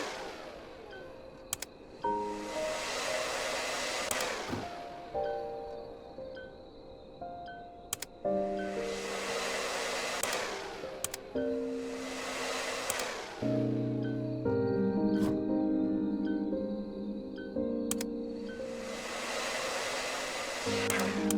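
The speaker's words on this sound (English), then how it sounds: "let's use the air blower for that" An air blower tool in the cleaning game Undusted: Letters From The Past, blasting in four repeated loud whooshing bursts of a few seconds each, separated by short pauses with soft clicks and gentle musical tones underneath.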